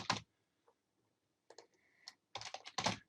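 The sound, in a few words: typing on a computer keyboard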